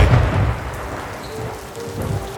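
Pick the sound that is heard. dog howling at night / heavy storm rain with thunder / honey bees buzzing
heavy storm rain with thunder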